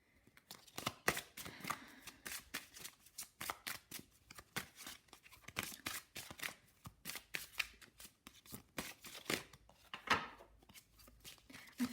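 Witch's Wisdom Oracle cards are shuffled by hand in quick, repeated riffling bursts, crisp and close, with brief gaps between handfuls and no talk.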